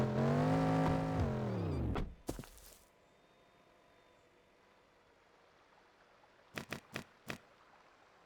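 Truck engine in a camping-area building video game, a loud idling and revving drone for about two seconds that cuts off, followed by quiet background and a few short thumps.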